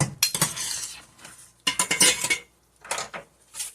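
Food in tomato sauce being served out onto two plates, with close metal cutlery scraping and clinking against dishes in two bursts separated by a brief pause, no talking.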